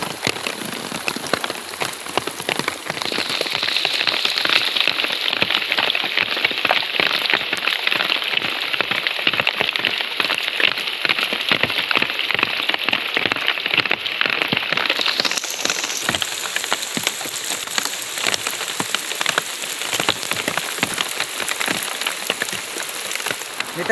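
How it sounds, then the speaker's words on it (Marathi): Heavy monsoon downpour in a village forest, rain pouring steadily onto surfaces as a dense, constant hiss that stays loud and unbroken throughout, with no voices. "बघा किती पाऊस लागलाय मुसळधार"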